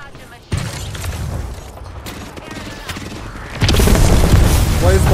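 Rapid gunfire and blasts in the shooter game Apex Legends, dense and loud throughout, swelling into a heavier barrage near the end.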